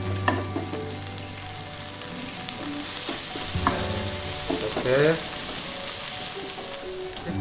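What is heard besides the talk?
chicken being reheated, sizzling in a pan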